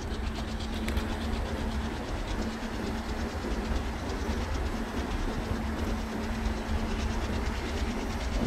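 A simulated Shramjevi Express train in Microsoft Train Simulator (MSTS) rumbles along, running from New Delhi to Rajgir, with a continuous steady roar, a faint hum and clickety-clack of wheels on rails, no talk.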